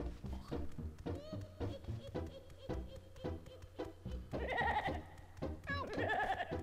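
Goats in the Banjo-Kazooie video game bleat repeatedly over a rhythmic, thumping game soundtrack, several wavering calls clustered near the end, fairly close and clear.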